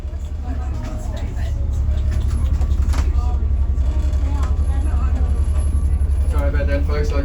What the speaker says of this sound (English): that bus running over the snake